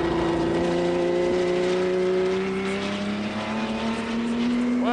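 A Porsche 917 racing car engine drones at a high, steady pitch that slowly rises, loud and close, with no voices.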